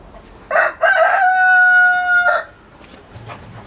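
A rooster crows once, loud and close, a long drawn-out cock-a-doodle-doo with a brief cluck just before it, then quiet.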